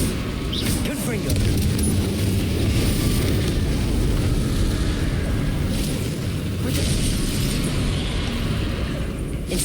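Dense, continuous roar of explosive Confringo spells and magical combat in Hogwarts Legacy, a sustained loud rumble with bursts layered over it and a person talking throughout.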